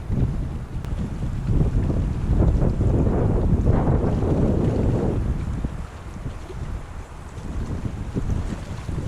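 Strong wind gusting across Lake Tahoe while trout fishing in freezing conditions, loud and continuous buffeting of the microphone with a rushing roar that swells in the middle and eases slightly toward the end.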